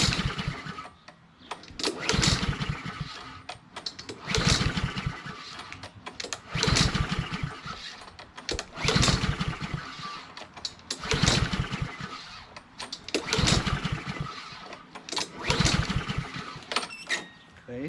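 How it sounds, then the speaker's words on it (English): Repeated pull-start attempts on a Honda GCV160 engine of a Troy-Bilt TB130 push mower: about eight rhythmic rope pulls, each a short rasping crank burst separated by brief pauses, close and loud, the engine never catching. "Let's give it a couple of pulls and see what happens."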